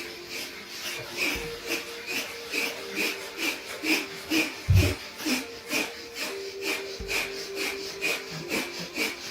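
Rapid, forceful rhythmic breaths of Bhastrika yoga breathing during a Kundalini yoga class, close and steady, a quick regular pulse of puffs lasting throughout with a few heavier bursts.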